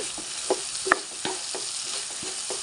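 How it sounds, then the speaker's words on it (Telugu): Cluster beans curry is stirred in a pan after sesame powder goes in, making a quiet soft sizzle broken by regular spatula taps and scrapes about twice a second, with one sharper clink. "ఇప్పుడు ఇందులోకి నువ్వుల పొడి వేసుకుందాము"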